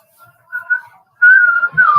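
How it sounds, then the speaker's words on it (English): A referee blows the half-time whistle at a Cheltenham versus Walsall football match, a couple of short faint tweets followed by a loud, sustained shrill blast. "15 seconds away from the half-time whistle from Sam Perkins."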